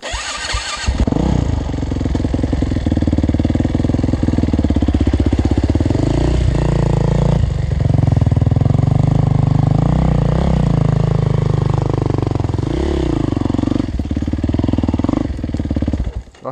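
Enduro motorcycle engine revving hard and sustained, close and loud, as the bike pushes through deep water on a dam-side trail ride, with pitch rising and falling as throttle changes.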